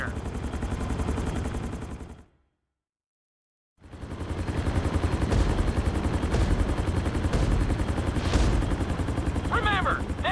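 Helicopter flying during a flight school lesson in the video game GTA 5, a loud continuous rotor chop and engine drone that cuts out briefly, then returns steady with faint voices under it.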